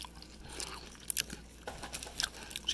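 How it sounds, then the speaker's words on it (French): A parrot chews crunchy cheese puffs, making quiet, irregular crisp crunches and bites at close range with no voices. "Mais qu'est-ce que c'est que ce bruit de mastication?"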